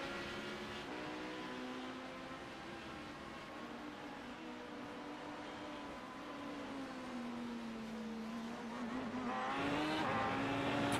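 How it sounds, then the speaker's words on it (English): GTE-class race cars lap Le Mans in a racing game, their engines whining in a steady, rising and falling drone with gear-shift sweeps. The sound grows louder toward the end as a car closes in. "Trying not to lose too much time to these GTE cars."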